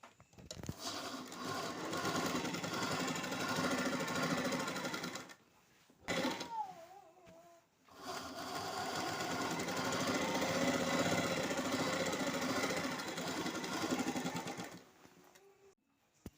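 An electric sewing machine stitches an embroidered blouse in steady runs of rapid needle chatter, with two short pauses between bursts, close and fairly quiet.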